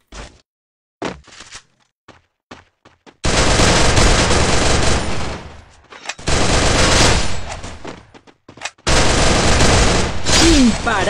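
Video game gunfire rattles in long, loud automatic bursts separated by scattered single shots and brief pauses, all close and dense, with players talking over it at times.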